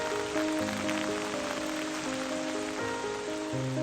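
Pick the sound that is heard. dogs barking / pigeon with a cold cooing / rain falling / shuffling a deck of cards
rain falling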